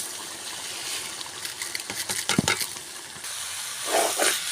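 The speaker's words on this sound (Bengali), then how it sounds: "তো মাংস কষানো হয়ে গেছে, এখন আমি পোলাও চাল দিয়ে দিব।" Polao rice tipped into a pot of cooked, browned meat for biryani: a rushing pour of grains with rattling clatter in the middle, then hissing sizzle and a couple of louder steamy bursts near the end.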